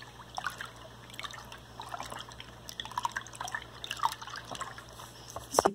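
Homemade detergent made from whole lemons is stirred in a container, giving soft, irregular wet drips and liquid sloshes with small clinks, fairly quiet and close, with no speech.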